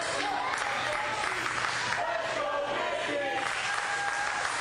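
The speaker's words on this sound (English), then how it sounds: "the crowd chanting for Mickie James as they're rallying behind her" Crowd at an indoor women's wrestling match cheering and chanting in support of a wrestler, a steady wash of applause and voices from a moderately distant audience throughout.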